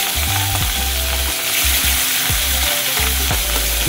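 Turmeric and salt-coated shrimp frying in hot mustard oil in a wok, loud close sizzling with repeated scraping stirs and clanks of the utensil against the pan.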